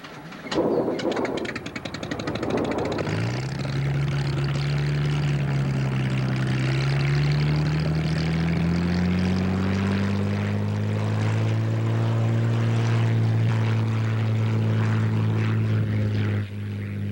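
Droning engine and propeller of a Cessna light aircraft run loud and steady throughout, the pitch climbing gradually as the plane powers up, with no talk.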